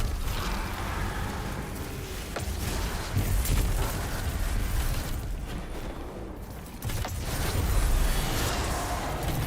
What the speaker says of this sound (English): Look at those lovely explosions.